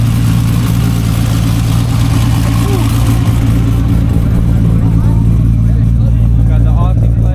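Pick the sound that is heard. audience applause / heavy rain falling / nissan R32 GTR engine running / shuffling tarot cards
nissan R32 GTR engine running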